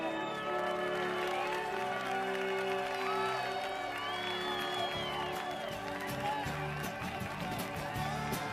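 Audience applause and cheering at a dressage competition, a dense steady wash of clapping with scattered whoops from a crowd, continuous throughout under a bed of music.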